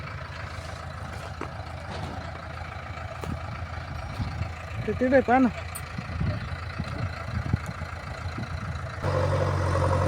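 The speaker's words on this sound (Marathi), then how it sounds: "सकाळपासून जे सी पी चालू आहे" A JCB excavator works in a field being cleared for farmland, its engine running as a steady low drone throughout, with a brief louder whine midway and a person speaking briefly over it.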